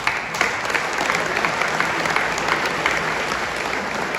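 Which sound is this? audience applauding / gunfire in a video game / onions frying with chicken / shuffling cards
audience applauding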